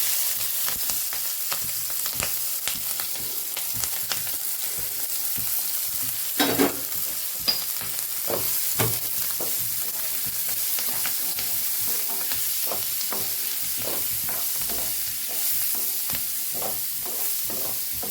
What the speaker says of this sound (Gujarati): અહીં આપણે સંભારાનો બઘાર કરી દઈશું